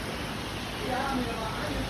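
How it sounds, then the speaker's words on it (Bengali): Heavy rain pours near a roadside shelter in Lohagara, Bangladesh, as a steady, dense hiss that holds constant throughout. "প্রচুর বৃষ্টি হচ্ছে প্রচুর"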